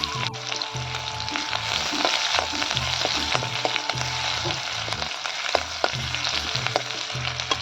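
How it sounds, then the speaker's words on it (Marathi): Onion fries in oil with cumin, mustard seeds and curry leaves for a green tomato chutney, giving a close, continuous sizzle with scattered crackles and a low rhythmic rumble beneath, with no talking. "यात टाकायचा आपल्याला कांदा छान असा लाल होऊ द्यायचा आहे"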